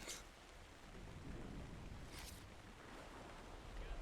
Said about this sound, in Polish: Klimatycznie będzie przynajmniej, bo deszcz tutaj pada.